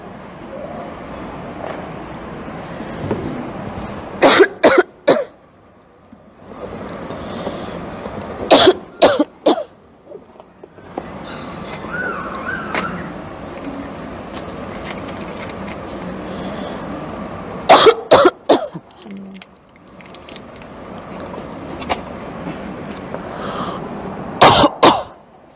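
A woman coughs and clears her throat in several short, loud bursts during a religious lecture, separated by quieter stretches of room noise.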